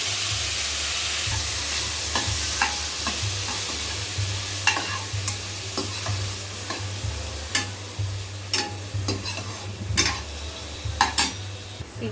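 Onion, garlic and tomato fry for a broccoli curry, a steady close sizzle under repeated sharp scrapes and clicks of a spoon stirring the pan throughout.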